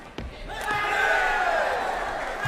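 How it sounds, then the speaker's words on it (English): A sepak takraw crowd at the Thailand vs Myanmar men's doubles World Cup final swells into a sustained roaring cheer, loud and spread wide across the arena after a sharp opening thud. "the crowd has stayed and really enjoying this match, cheering some of the great skills that we are watching"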